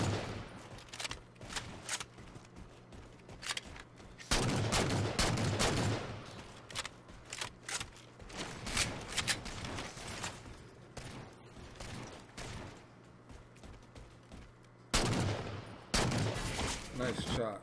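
Gunfire in the video game Halo 4 comes in dense, loud bursts of rapid shots, with short pauses between volleys and brief stretches of sustained firing.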